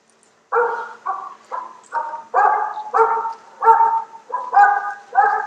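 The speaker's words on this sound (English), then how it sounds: "Get out of there, you stupid dogs." Dogs bark repeatedly in a quick series of about ten loud, close barks, with short gaps between them and no talking.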